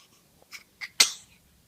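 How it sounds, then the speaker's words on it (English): A baby's sneeze: two small breathy intakes, then one sharp, close sneeze that trails off quickly, soft and alone. "a very, very cute little sneeze."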